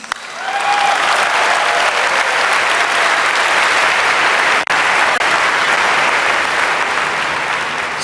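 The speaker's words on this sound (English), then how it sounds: "Let's clap it up for the 4 old people." A large audience at a business conference bursts into loud, dense applause that swells quickly and stays sustained to the end, with no talking over it.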